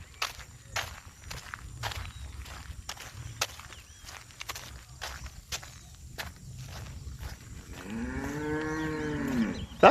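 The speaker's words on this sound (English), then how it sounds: "A couple of cows." Cattle on a city street in Georgetown, with repeated footsteps and shuffling up close followed by a loud, drawn-out moo near the end.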